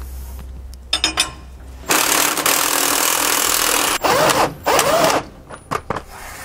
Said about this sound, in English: grab 1 1/8 inch wrench and socket so we can pull the bolt out and remove the nut